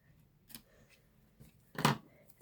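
Scissors make two or three short, crisp snips close by in a quiet room, the last one louder, while a glowing greenhouse card is being made.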